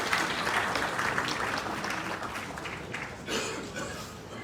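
An audience at an energy investment conference applauds as a speaker walks to the podium, a steady, moderately distant wash of clapping that softens midway and briefly swells again.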